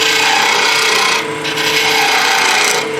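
Wooden sphere blank being turned down on a lathe, a loud, steady, close rasping and scraping of tool against spinning wood, continuous with a brief dip midway.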